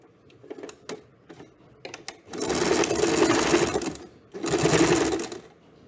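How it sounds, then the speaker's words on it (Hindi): A sewing machine stitches a high neck blouse, double-stitching a small piped section: two sustained, loud whirring runs of needle chatter separated by a brief pause, preceded by a few soft handling clicks. "इसको डबल सिलाई कर लें।"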